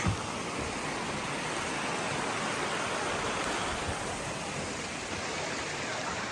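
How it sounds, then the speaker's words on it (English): Sawyer's Creek on the Te Araroa Trail rushes steadily, a loud, continuous close-up burble of flowing water with no pauses. "that's a mighty fine creek"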